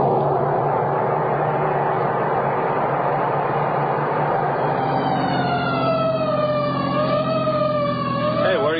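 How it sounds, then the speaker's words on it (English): Fire engine siren in a radio drama, a loud continuous wail that rises and falls, joined partway through by a second siren sweeping in pitch, with no talk over it. "So why the siren?"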